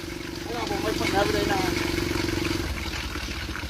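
A small aircraft engine revs up before takeoff and holds a throbbing, pulsing drone, then eases back slightly, close by and steady.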